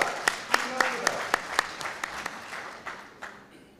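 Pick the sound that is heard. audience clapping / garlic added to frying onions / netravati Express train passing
audience clapping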